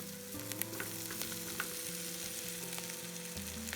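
Onions and capsicum sauté in a pan for a Gobi Manchurian gravy, giving a steady close sizzle with a few sharp crackles and spatula scrapes, no talking.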